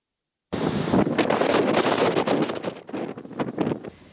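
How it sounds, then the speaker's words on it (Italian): Strong bora wind gusting in Trieste, loud buffeting roars that batter the microphone in surging bursts after a brief silent start, easing slightly toward the end, with no voices. "Soffia bora sostenuta a Trieste con raffiche fino a quasi 100 km all'ora."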